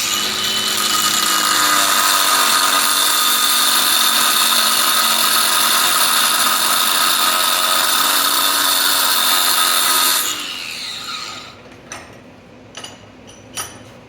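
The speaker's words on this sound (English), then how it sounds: "Grind that little groove down it" A steady, loud power-tool whine grinding a groove into a metal bushing continuously for about ten seconds, then cutting off and spinning down, followed by a few sharp clicks and taps.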